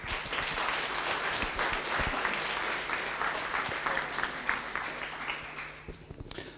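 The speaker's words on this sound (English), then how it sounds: "give him a warm round of applause" Conference audience at NixCon 2018 applauds to welcome a speaker on NixOS networking: dense, even applause from a seated crowd filling the room, slowly thinning toward the end.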